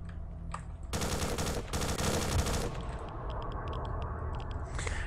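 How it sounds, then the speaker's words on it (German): Automatic weapon fire in S.T.A.L.K.E.R. rattles out in two long, loud bursts lasting about two seconds, followed by a scatter of quieter distant shots and clicks. "Die Waffe hat mich nur gerade nebenbei irritiert wegen dem Sound."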